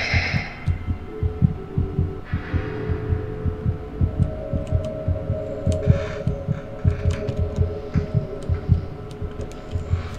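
A loud, steady heartbeat pulses in the game Among the Sleep, regular low thumps repeating over a dull hum with no voices.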